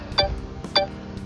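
A drone's obstacle detection system gives off repeated electronic warning beeps, two clear chirps about half a second apart. They are fairly faint, with light background noise and no talk.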